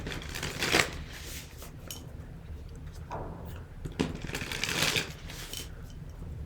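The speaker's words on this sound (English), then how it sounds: "as I finish shuffling" A tarot deck, the Onyx Tarot, being shuffled by hand, giving soft riffling and sliding card noise in a few bursts over a low steady background, with no talking.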